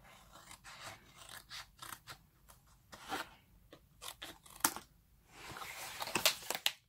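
Scissors snipping the corners off paper for a mini album, a run of close, crisp cuts in uneven bursts, some quick and some spaced, with soft paper rustles in between.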